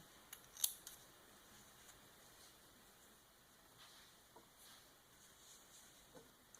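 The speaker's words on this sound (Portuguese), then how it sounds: "E agora é só cortar o excesso." Scissors give a few quiet snips as they trim excess yarn from a crocheted Peppa Pig appliqué, faint isolated cuts over a soft room hush with no talk.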